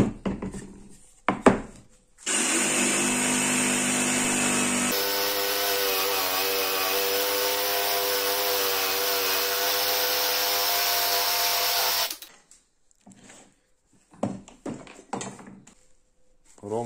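A jigsaw cuts through oak, a loud, steady buzzing whine running for about ten seconds, with brief talk before and after the cut.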